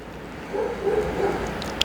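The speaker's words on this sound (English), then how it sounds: "As you can hear the dog outside." A dog outside gives a few muffled, distant barks and yips, faint behind indoor room tone.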